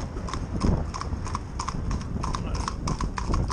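Hooves of a driving pony used for endurance riding clip-clop in a quick, even rhythm close by, with faint background noise and no talk.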